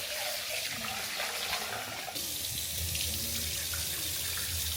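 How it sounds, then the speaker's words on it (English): Rice being washed under a kitchen tap: a steady, close stream of running water hissing and splashing into the pot for several seconds, its tone shifting midway, with no talking. "as always, you got to wash the rice."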